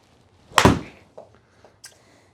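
A golf ball is struck with a 7-iron during indoor launch-monitor testing (Rapsodo MLM alongside a Uneekor EyeXO): one loud, sharp close impact, followed by a few faint, scattered knocks.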